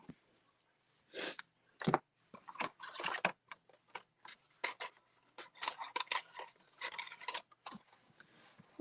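Scissors trimming paper for a box, a series of short crisp snips and rustling paper strokes in irregular bursts, close and fairly quiet with no speech.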